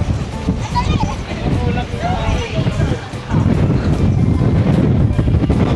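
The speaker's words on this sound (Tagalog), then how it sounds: "Pero lakas ng hangin." Strong coastal wind at Yehliu Geopark on Taiwan's rocky shore buffets the microphone in a steady, loud roar that surges after a brief lull, with people talking under the gusts.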